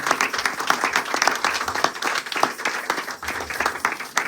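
A church congregation applauds during a Sunday worship service, dense steady clapping from many hands filling the room throughout, with no clear talk over it.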